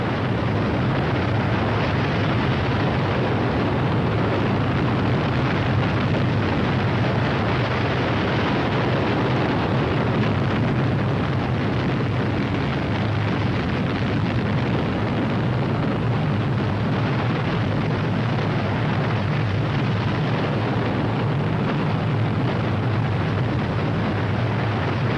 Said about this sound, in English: The spacecraft sat on the most powerful rockets ever assembled, more powerful even than the rockets that sent men to the moon.